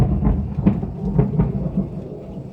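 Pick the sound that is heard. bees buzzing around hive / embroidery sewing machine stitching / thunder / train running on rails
thunder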